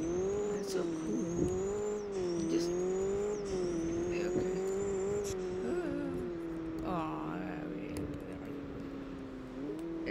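A Roblox video game car engine drones steadily with a rising and falling whine, shifting pitch as it drives along, with faint synthetic tire and wind noise and occasional light voices in the background.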